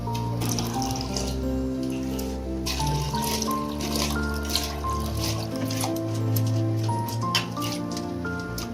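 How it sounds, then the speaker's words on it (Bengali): Rice goes into boiling water seasoned with whole garam masala for chicken biryani, giving a continuous watery bubbling and splashing with scattered drips, moderately quiet and without talk. "গোটা জল ফুটে গেছে এবার আমরা ওর মধ্যে চালটা দিয়ে দেবো"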